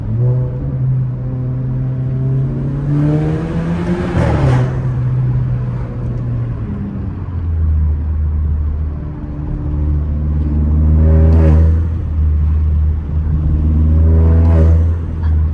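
A car engine fitted with a new air intake revs up loudly through the gears, rising in pitch, dropping at each shift, then climbing again in two strong pulls.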